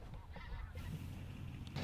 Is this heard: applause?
no